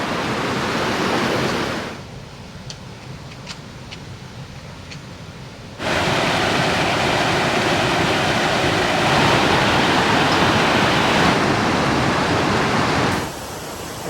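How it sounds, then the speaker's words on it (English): A waterfall near a coastal camp spot in Norway gives a loud, steady broadband roar that dips briefly to a softer rush before surging back to full strength and holding there. "That must be the waterfall going off that way."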